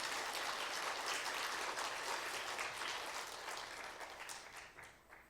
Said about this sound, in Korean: 여러분 크게 한번 박수로 감사드립니다.